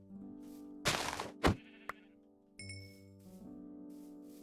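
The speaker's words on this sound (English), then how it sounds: "These are definitely sheep." Sheep bleating in Minecraft survival mode, heard among short thuddy hits and a bright chime-like pickup sound, with steady harmonic background tones running underneath and no talking.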